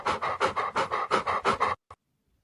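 Rhythmic, fast panting from a very large Cane Corso dog, close and steady for nearly two seconds with one final breath, then silence.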